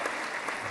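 Audience applause for Keir Starmer at a live event in Israel marking the hostages' release and Trump's arrival, a brief, steady burst of clapping at moderate distance with no break.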